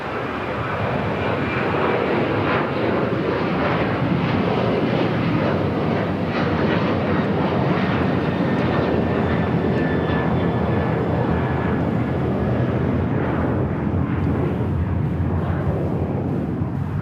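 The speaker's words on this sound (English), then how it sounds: "Alaska Airlines Flight 1352. It's a 737-900ER. Now rolling down at 25 right." An Alaska Airlines Boeing 737-900ER on its takeoff roll at LAX gives a loud, steady, broadband jet engine roar that holds for the whole stretch without a break.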